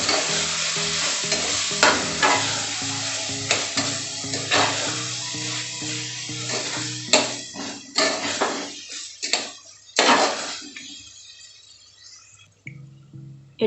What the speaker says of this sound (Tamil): எல்லாம் சேர்த்து நல்லா கிண்டி விட்டுக்கலாம்.